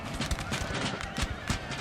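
Massed cavalry horses charging in the Napoleonic Total War 3 battle game, a dense continuous drumming of hooves with rhythmic thuds, loud and busy throughout.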